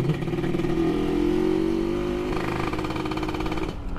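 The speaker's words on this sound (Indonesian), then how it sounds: "Cuman geber-geber sebentar gitu." A motorcycle fitted with a Killer Whale road-race exhaust revs loudly and continuously nearby, its throaty engine note rising and holding steady before easing off at the end.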